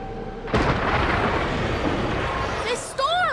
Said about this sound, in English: This storm!